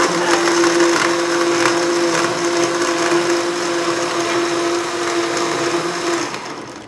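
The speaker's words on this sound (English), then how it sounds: "blend it up. This is smoothie button." A blender on its smoothie setting whirs steadily while blending a vegan chocolate frappuccino, a loud sustained motor hum with a grinding churn that runs for several seconds before winding down near the end.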